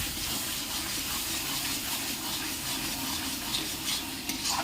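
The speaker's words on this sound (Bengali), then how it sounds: "ভালো করে নাড়তে হবে।" Goat meat curry is stirred in a pan, giving a steady close wash of wet, bubbling, scraping noise with a few small clinks near the end and no one speaking.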